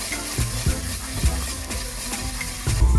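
Carolina Reaper chili and fresh ginger frying in a pan for a vegan peanut stew, with a steady close sizzle and a few sharp stirring clunks and scrapes spread across the spell.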